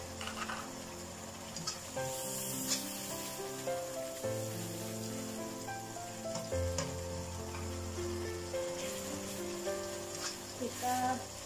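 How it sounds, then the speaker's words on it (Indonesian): Chili sambal for nila fish balado sizzles and crackles steadily in a hot pan, loud and close, with occasional stirring clatter and faint background music underneath. "Kita tumis sambalnya sampai harum ya teman-teman."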